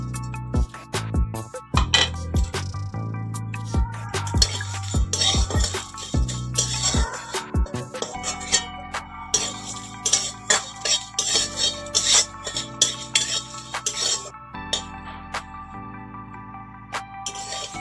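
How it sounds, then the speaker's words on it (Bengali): Whole spices and dried red chilies stirred in a dry wok for an elephant apple pickle: a close, irregular run of metallic scrapes, clinks and rattles, fairly loud, with no talking. "আমি এগুলো ভালো করে শুকনো কড়ায় নেড়ে নেব।"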